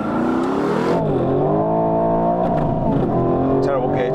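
Aston Martin cars launching in a drag race, engines roaring hard then dropping pitch through a gear change before climbing again, loud and close with people talking over it.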